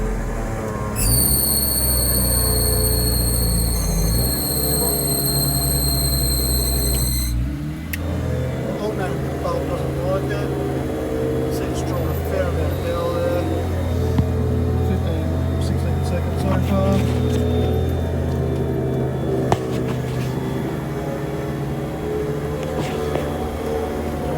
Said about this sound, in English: I'll just time the winch and see how long it takes to winch up there.